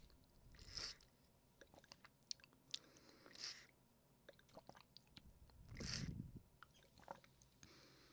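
Sips drawn through the straw top of a plastic water bottle, close and quiet, with a few separate wet gulps and mouth sounds spaced out between soft clicks.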